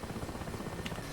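Mi-8 helicopter engine and rotor in the DCS flight simulator, heard from inside the cabin as a steady, dense churning drone with a rhythmic rotor pulse, continuous and fairly loud for the whole moment.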